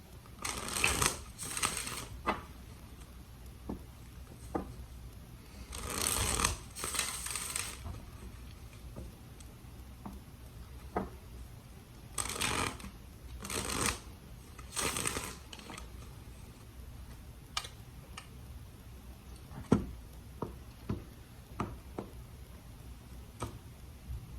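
Tarot cards being shuffled in repeated short bursts of riffling, separated by quieter pauses with light taps and clicks between them.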